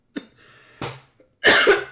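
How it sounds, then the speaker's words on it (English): A person coughs several times, short harsh bursts separated by brief quiet gaps, close and loud, the final cough the strongest. "And now I'm gonna start coughing."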